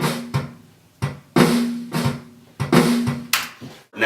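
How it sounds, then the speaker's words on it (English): A quantized, swung drum beat on a Studio Heavy Kit plays alone: booming kick and snare-like hits in an uneven lilting pattern, roughly eight strikes over four seconds with short decays between, close and fairly loud. "We're going to want to swing it a little bit,"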